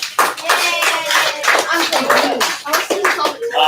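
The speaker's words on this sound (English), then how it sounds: "Give Navnit a round of applause." Classroom of students gives a round of applause after a classmate solves a cube, close, loud, uneven clapping with rhythmic surges and a voice near the end.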